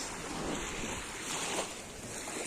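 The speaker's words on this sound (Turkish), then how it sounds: "Dalgalara ayağımıza çarptırıyoruz canlarım." Sea waves washing in at the Geyikli pier, a faint, steady wash of surf with soft breezy rustle, continuous and distant-sounding with no voices.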